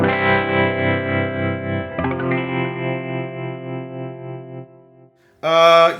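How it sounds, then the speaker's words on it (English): An electric guitar through a Marshall 1974X-style clone tone with tremolo plays sustained chords whose volume pulses in a regular wavering rhythm. A new chord strikes partway through, the sound fades, and a loud strum comes in at the end. "Here's some tremolo if you want to hear it."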